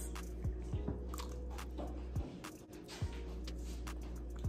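Someone chews and crunches home-cooked Kenyan food close to the mic at a taste test, with soft, irregular bites and mouth sounds against a faint steady background hum.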